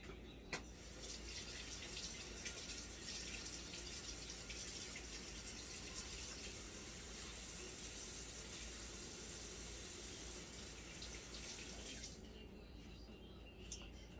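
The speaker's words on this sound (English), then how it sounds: "All right, so I'm just going to rinse this." Freshly pulled onions rinsed under a running kitchen faucet, a steady close hiss of water that runs without a break until it shuts off near the end.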